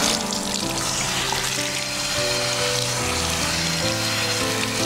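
Tap water running steadily into a salon basin while a child's hair is washed, a continuous close splashing hiss with a low hum underneath and no pauses.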